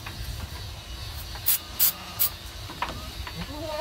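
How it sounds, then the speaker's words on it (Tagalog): Medicated spray aimed at a baby goat in a farm pen: three short, sharp hissing bursts from a spray can, close up, over low background noise. "Spray na lang natin ito."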